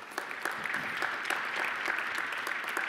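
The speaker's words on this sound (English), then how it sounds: "give them a nice round of applause right now." New taxi and limousine cadets applaud their loved ones at a graduation and award ceremony, steady moderate clapping from a crowd heard at some distance.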